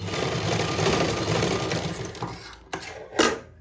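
A sewing machine stitches a fabric dori with a steady close whir that stops partway through, followed by two sharp handling clicks.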